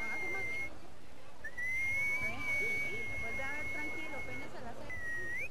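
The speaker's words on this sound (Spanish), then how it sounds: "Esa es solo una de las formas más populares de emitir un silbido." Person whistling long sustained clear tones with occasional pitch slides and brief breaks, fairly faint over a low background hiss and murmur.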